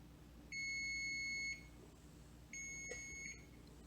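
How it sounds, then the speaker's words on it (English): Two bright electronic kitchen timer beeps: one steady tone lasting about a second, a pause, then a second slightly longer tone, clear against quiet room background. "The timer went off"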